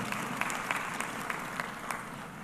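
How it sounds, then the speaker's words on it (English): Faint, distant clapping from a graduation commencement audience, a thin steady patter of hands with a few sharper claps standing out. "Thank you for clapping."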